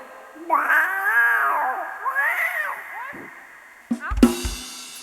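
A cat lets out long, wavering meows close up, followed by a couple of sharp knocks and rustles at the end.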